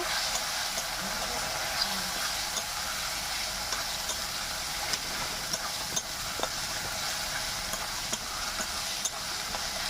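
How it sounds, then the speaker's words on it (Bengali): Spice paste with turmeric powder being stir-fried in oil for a spicy desi chicken curry, a steady close sizzle with faint scraping stirs running throughout, no talking. "এখানে আমি হলুদ গুঁড়ো দিয়ে দেবো, দিয়ে আর একটু ভালো করে কষে নেব"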